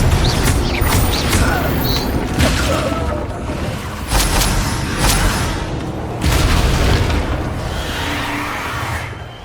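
Confringo blast spells in the video game Hogwarts Legacy, a series of loud booming bursts and whooshes repeating every couple of seconds amid spell-combat clatter, with voices shouting over them.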